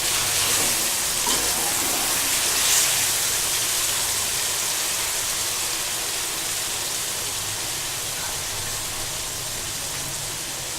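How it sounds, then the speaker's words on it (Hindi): Masala sizzles and fries steadily in a karahi for achari chicken, a dense, even crackle that holds close and loud throughout with no talk. "मसाले की भुनाई हो चुकी है।"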